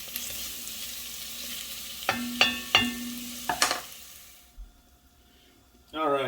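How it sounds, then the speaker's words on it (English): Onions sautéing in olive oil in a pot for a ground beef soup, a quiet sizzle with a few scraping stirs, then a near-silent gap before a voice begins speaking at the end. "saute them just before they go translucent"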